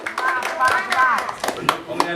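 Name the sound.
audience clapping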